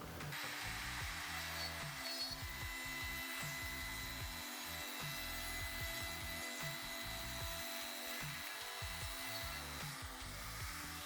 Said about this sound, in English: Then the edges get trimmed with a flush trim router bit.